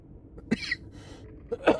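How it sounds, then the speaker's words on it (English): Two short, sharp coughs about a second apart, close and fairly loud, with quiet background between them. "Oh, we still have our cough, which sucks."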